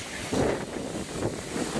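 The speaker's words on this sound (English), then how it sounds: "50-mile-an-hour wind gust. Look how the bamboo takes it." Strong 50-mile-an-hour winter wind gust buffeting bamboo growing next to a house, a steady broad rush with a louder surge partway through and a continuous roar throughout.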